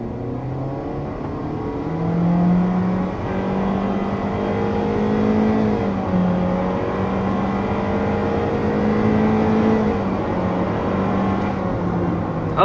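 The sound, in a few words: 2024 compact SUV accelerating 0 to 60 mph uphill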